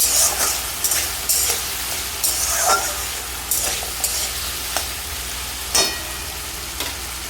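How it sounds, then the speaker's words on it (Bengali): Potatoes fry with green chili and turmeric in a pan, giving a steady close sizzle broken by repeated scraping stir strokes at irregular intervals, with no talk. "আলুটা কিছুক্ষণ লাল হওয়া অবধি ভেজে নিব"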